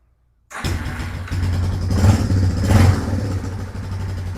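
A 1996 Yamaha Wolverine 350 4x4 ATV engine, choked and key-started, cranks briefly and catches, then settles into a loud, close, steady idle with a couple of swells in revs and no talking.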